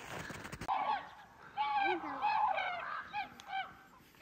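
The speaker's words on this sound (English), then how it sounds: "So that's the sound of ravens that you can hear." Ravens calling outdoors in a cold northern January setting, a series of hoarse, croaking calls in irregular bursts at moderate distance, fairly faint, with a brief noisy rustle at the start.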